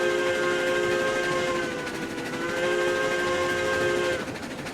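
A steam locomotive in RailRoads Online sounds a long, loud, tonal whistle over a continuous steam hiss, pausing briefly midway and then sounding again.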